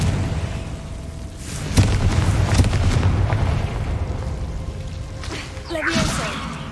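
Fiery Confringo spell blasts burst in Hogwarts Legacy combat within a goblin mine, several sharp booms and cracks landing over a rumbling game soundscape, with a final burst near the end.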